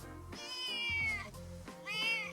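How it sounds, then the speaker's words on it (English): A cat gives two high, drawn-out meows, clear and close, with a short pause between them. "let's listen to the sound of the cat"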